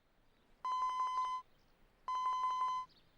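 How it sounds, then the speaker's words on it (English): A cell phone rings in the video game 428: Shibuya Scramble: two clear electronic trilling ring bursts, each under a second long, separated by a short pause, alone against near silence. "Osawa's cell phone rang."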